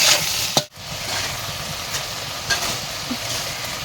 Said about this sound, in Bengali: তারপর দিয়ে একটু ভালো করে নাড়াচাড়া করে নিই।